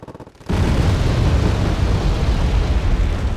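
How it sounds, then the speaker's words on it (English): An SU-24M bombing strike lands in Wargame: Red Dragon: after a brief quieter moment, a loud explosion breaks out into a dense, continuous rumbling roar of blasts that fills the rest of the clip. "an SU-24M going to be coming in to deal a bombing strike"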